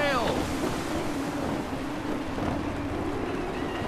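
Steady wind rushing around a sailing ship at sea in Assassin's Creed III, a constant broadband roar with wave wash that stays loud and even throughout, with a brief creaking whine at the start.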